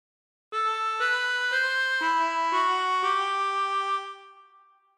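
A harmonica plays a short phrase of the Star Spangled Banner as a string of about eight sustained reedy notes that step between pitches, close and alone, with the last note held and fading.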